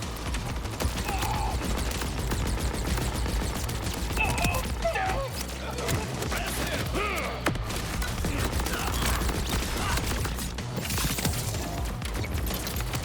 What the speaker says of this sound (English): I'll shoot people instead of looking at guns